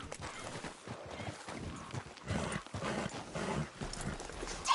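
Rapid clip-clop of galloping hooves from a horse racing video game on PS4, steady and fairly loud throughout with a dense crowd-like wash behind it.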